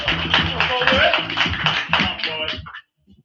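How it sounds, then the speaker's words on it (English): A crowd at an open mic and slam poetry finals claps and cheers loudly and densely for a performer, with voices mixed into the applause before it cuts off abruptly, leaving brief faint noises. "Let's clap it up for the homie Nick"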